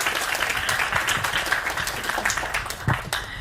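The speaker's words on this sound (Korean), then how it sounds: "박수 부탁드립니다" Audience applause rings out for student council presidents at a university students' forum, a steady, dense patter of many hands clapping across the room with no break.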